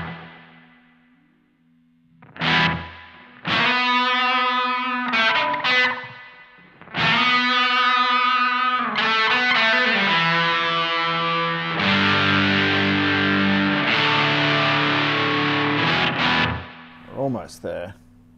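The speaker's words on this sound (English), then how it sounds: "I'm trying to create the sound where the delay is actually going to almost sustain the pedal by starting to feed back." Analog Alien Rumble Seat guitar pedal delay with distorted, harmonically rich guitar notes whose repeats thicken into a sustained, swelling feedback wash, loud and continuous, with a brief burst near the end.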